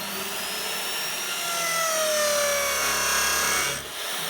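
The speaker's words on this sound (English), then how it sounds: "So I've attached my bit to my drill press, so it makes it just that much easier to get the holes in the same place." A drill press bores a row of holes into wood for a snooker and pool cue stand, a steady close whine with rising and falling tonal sweeps as the bit cuts, continuous throughout with a brief dip near the end.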